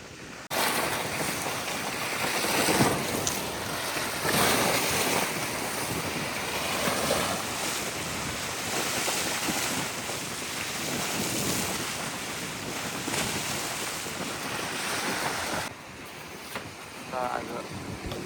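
Strong wind buffets the microphone at a lakeside campsite on Lake Whitney, a steady, loud roaring rush with gusty swells throughout and indistinct voices faintly underneath.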